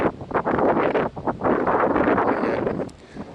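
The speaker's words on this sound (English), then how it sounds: "it was pretty windy" Wind buffets the microphone in uneven gusts, a rough rumbling roar that swells and dips throughout.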